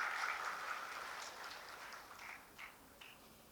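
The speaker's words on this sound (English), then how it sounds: "A big round of applause to her." Audience applause at a college celebration event honoring ability in disability, a steady wash of clapping that runs throughout and slowly thins out toward the end, with no voices over it.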